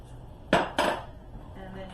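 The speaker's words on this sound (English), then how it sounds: "then you just stir all that stuff together" Pecan pie filling with egg and a tablespoon of butter gets stirred in a bowl, giving two quick, fairly close clinks of utensil against the bowl in an otherwise quiet kitchen, then faint soft scraping.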